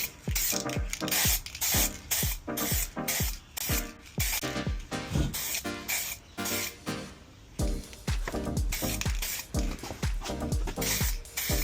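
A second coat of spray paint goes onto a Porsche Boxster 986 part in rapid, steady hissing bursts from an aerosol can, loud and close, repeating in a regular rhythm with no talking.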